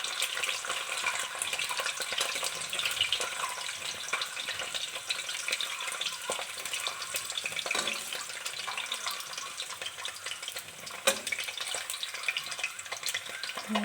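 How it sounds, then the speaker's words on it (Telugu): Eggs added to well-heated oil in a pan for egg curry, frying with a constant crackling sizzle that holds throughout, occasional sharper pops and faint clinks breaking through. "బాగా ఆయిల్ మరిగిన తర్వాత ఎగ్స్ అనేది యాడ్ చేశాను ఫ్రెండ్స్"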